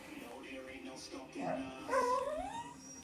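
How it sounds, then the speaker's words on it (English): A pet dog whines and whimpers in short rising and falling cries close by, mixed with a person talking to it in a home setting. "Whiny doggy?"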